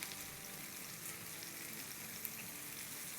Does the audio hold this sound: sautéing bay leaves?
yes